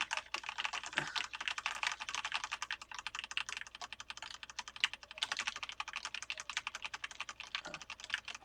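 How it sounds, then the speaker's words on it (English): Computer keyboard keys mashed over and over during a Star Wars (1991, Nintendo) game session, a dense, continuous clatter of rapid clicks and taps lasting throughout, close and alone with no voices. "I'm just gonna mash multiple keys over and over and hope that does something."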